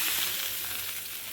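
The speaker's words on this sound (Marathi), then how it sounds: "आता आपण देणार आहोत आपल्या काकडीच्या मठ्ठ्याला जिऱ्याची फोडणी" Hot cumin tempering poured into cucumber buttermilk, a bright close sizzle that fades slightly over its short span.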